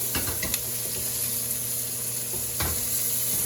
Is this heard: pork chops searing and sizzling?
yes